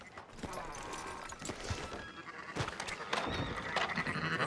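Sheep bleating on a livestock farm in the video game Red Dead Redemption 2, several overlapping bleats at moderate loudness over a busy background of movement and faint hoof clops.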